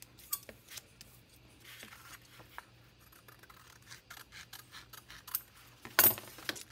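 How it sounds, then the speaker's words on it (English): Scissors trim paper for a journal folio, giving soft, close snips and rustling cuts scattered across several seconds, with one sharper crunch near the end and no talking. "So let's just trim this off."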